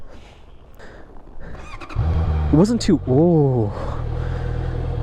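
A motorcycle with a stock exhaust revs hard a few times, rising and falling engine pitch close by after a quieter idle, with people talking over it.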